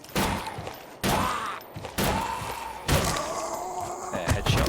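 Gunshots ring out in the zombie survival horror game Them and Us, four sharp, heavy blasts spaced about a second apart, each one trailing off into a short ringing decay.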